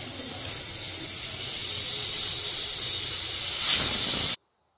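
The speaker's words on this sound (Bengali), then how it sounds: "প্রেসার কুকারে কেটে রাখা এঁচোড়গুলোকে দিয়ে 1 চা চামচ নুন এবং পরিমাণ মতন জল দেওয়ার পর সেদ্ধ করে নেব" A pressure cooker boiling chopped jackfruit with salt and water lets out a steady loud steam hiss that swells slightly near the end before cutting off abruptly.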